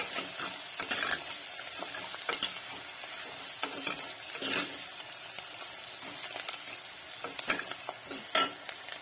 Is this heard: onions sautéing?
yes